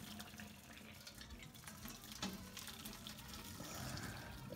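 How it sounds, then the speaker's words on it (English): Kitchen tap runs cold water to rinse drained pasta, a faint steady splashing stream with a small gurgle partway through, heard alone. "you want to rinse it with a little bit of cold water"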